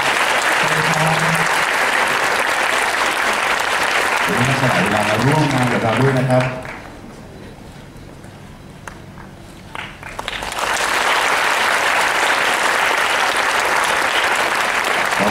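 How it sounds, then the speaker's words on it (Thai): A crowd at a charity donation ceremony for a medical college foundation gives loud, sustained applause. It fades out for a few seconds while someone speaks, then swells back up and continues strongly to the end. "ผมขอเสียงปรบมือให้ท่านครับ"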